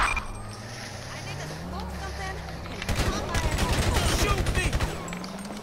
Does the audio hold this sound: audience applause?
no